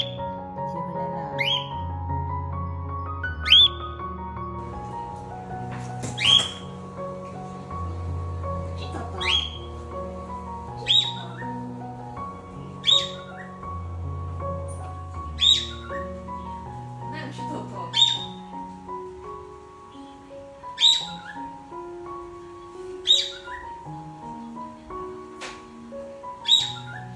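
Pet cockatiel parrot calling and whistling indoors, giving short, sharp chirps that repeat every couple of seconds over steady background music and voices.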